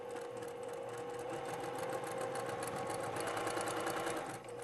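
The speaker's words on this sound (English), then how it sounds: "I'm going to stitch the same 1/4 inch seam allowance" A sewing machine stitches a quarter-inch seam on a star quilt block, giving a steady, fast, even whir that runs alone and without a break, close and moderately quiet.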